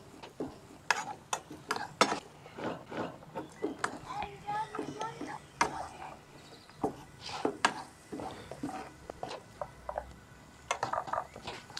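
Ackee and saltfish stirred in a pan with ginger, sounding as soft scraping and clinking strokes between bursts of conversation and children's voices.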